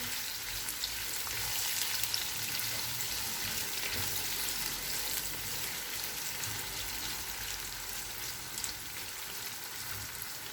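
Steady crackling sizzle of onions frying in a pan toward golden brown, close and continuous, with faint stirring now and then.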